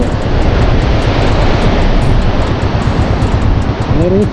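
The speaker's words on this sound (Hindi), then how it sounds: "क्या नदी बह रही है" A mountain river runs in a fast current beside a remote roadside bridge on the Pooh to Chango stretch, with large boulders and hills around it. A loud, dense, unbroken rush fills the whole span, with no voices over it.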